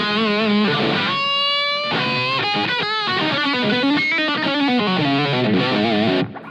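An electric guitar through a Yamaha THR amp plays a continuous distorted lead line with sustained bends and quick note runs, loud and close with no talking.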